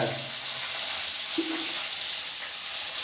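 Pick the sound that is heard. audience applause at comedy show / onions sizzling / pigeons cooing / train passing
onions sizzling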